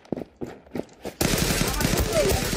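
Pistol gunfire in a battle royale video game, a dense rapid string of close shots after a few scattered earlier bursts, with a voice talking over it.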